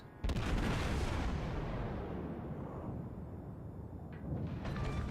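Naval gunfire from a Tier IV American battleship, the Wyoming, in World of Warships: one sudden loud main-gun salvo booms and rolls out in a long rumbling decay, then a second, lighter burst follows near the end.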